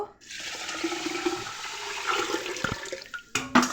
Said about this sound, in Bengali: এই জল দিয়ে দেব